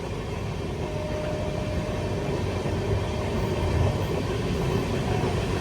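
Steady, loud rumble of the AP Sampark Kranti Express running on the rails, heard from inside a coach as a continuous dense roar with no distinct clacks or voices.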